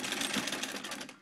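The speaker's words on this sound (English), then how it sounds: "I'm going to sew that one again." Home sewing machine stitching quilt pieces, a fast steady whirring run of needle strokes lasting about a second, close and continuous.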